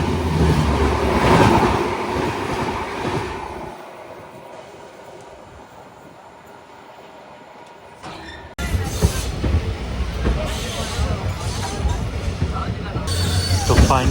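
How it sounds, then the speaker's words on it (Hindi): Barmer Rishikesh Express train crossing on a single-line track, a loud rumbling roll with rail clatter that fades to a quieter hum midway, then returns abruptly as a steady, close rattle of wagons, with voices talking faintly underneath. "और ये वही ट्रेन क्रॉस हो रही है।"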